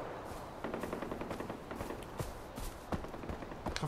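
Rapid bursts of automatic gunfire in the video game Far Cry 4, crackling in uneven volleys with sharp individual shots, fairly loud and continuous throughout with no talk.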